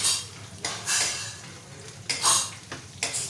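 Dry peanuts being roasted in a pan for poha chivda, a cup of them stirred and rattling against the metal in bursts of scraping clatter, close and alone.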